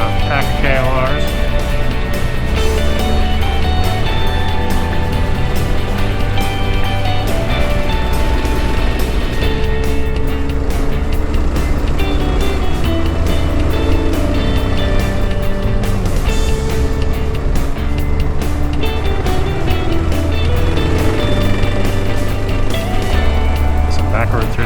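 A group of Kawasaki KLR motorcycles rides together along twisty back roads, their engines roaring loud and continuous with steady rumbling throughout, and a voice talking over the noise.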